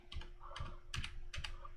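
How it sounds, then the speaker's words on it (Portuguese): Keys pressed on a computer keyboard, about four distinct clacking strokes spaced roughly evenly, close and crisp, with no talking. "Ou eu posso pressionar o meu teclado,"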